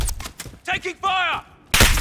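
Gunfire crackles in Modern Warfare 2019 during a team deathmatch, with short loud bursts at the start and end around shouted in-game voice callouts.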